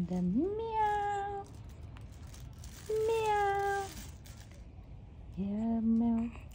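Three drawn-out cat meows sound in an Old MacDonald children's song, each clear and close with a rising start, spaced out by short gaps.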